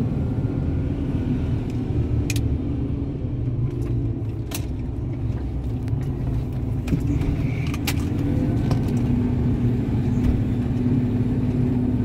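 A truck with all-wheel drive engaged runs across a field during digestate spreading, giving a steady, loud low engine rumble with occasional metallic clinks and rattles throughout.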